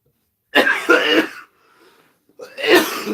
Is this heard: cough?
yes